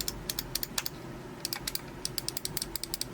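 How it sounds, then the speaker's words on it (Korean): Sharp clicks from the Omron switches of a Cooler Master MM711 gaming mouse, pressed in quick, uneven bursts of single and double clicks. They sound close and crisp against a quiet background, with no voices. "정말 많이 들어본 클릭음이죠"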